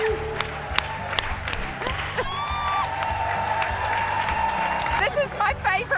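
A crowd at the World Jigsaw Puzzle Championships cheers and applauds steadily as a competitor finishes, with whoops rising over continuous clapping and voices talking through it.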